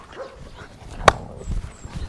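A dog gives a single sharp, loud bark close by, with low background noise before and after.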